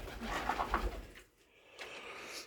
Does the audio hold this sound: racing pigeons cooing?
yes